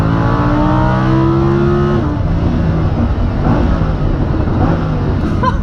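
Lamborghini Huracan accelerating with the transmission shifting itself in automatic mode, a loud, steady engine note climbing in pitch, dropping briefly at an upshift near two seconds, then pulling on with a continuous roar.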